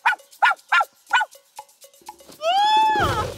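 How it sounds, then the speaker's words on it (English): A cartoon puppy barks in a quick string of short, punchy yaps, followed by a bright sliding whistle-like tone and a burst of rough noise at the end. "Woof woof! Woof woof! Woof woof woof!"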